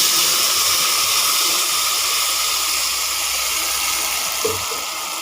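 A ground green masala of onion, garlic, coriander and green chilli sizzles in a hot pan, a steady, loud hiss holding evenly throughout with no talk over it.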